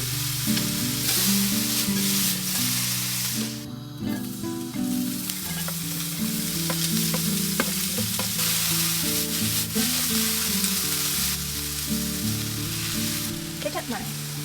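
Nasi goreng fried rice sizzles loudly in a pan, with a continuous crackle and occasional stirring scrapes close by, while music plays in the background throughout.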